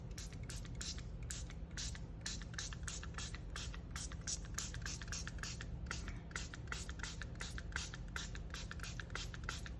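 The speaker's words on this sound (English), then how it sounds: "we're gonna spray this down and get this ink moving" A spray bottle mists water onto stencil ink for printmaking, pumped again and again in quick, even bursts over a low background hum, fairly faint throughout.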